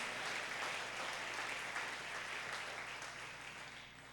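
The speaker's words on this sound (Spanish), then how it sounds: "dale un aplauso fuerte al Espíritu Santo" A church congregation at a family service applauding, a broad even wash of clapping that holds steady and slowly fades, heard from some distance and fairly faint.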